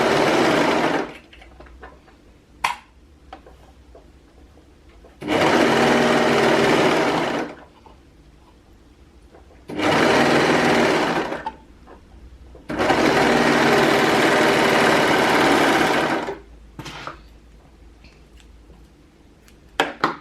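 A sewing machine stitches stretchy cotton lycra fabric for pants, running in four loud, steady bursts of a few seconds each, separated by quiet pauses with small handling clicks.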